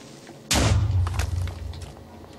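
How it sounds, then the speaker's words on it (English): A Minecraft creeper explodes in a single sudden, loud boom that rolls into a rumbling decay lasting about two seconds, heard alone without talk. "I just got hit by a creeper. I don't know why it exploded"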